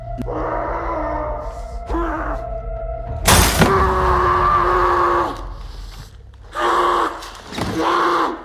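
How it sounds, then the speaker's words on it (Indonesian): A glass window is smashed in a film scene: one sudden, sharp crash breaks in partway through, set among loud droning, moaning tones that rise and fall around it. "Beliau pun masuk dengan cara memecahkan kaca jendela"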